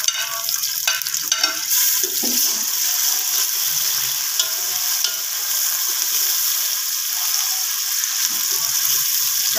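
Chopped garlic hits golden-brown onions frying in oil, a loud close crackling sizzle with some stirring scrapes at first, settling into a steady hiss.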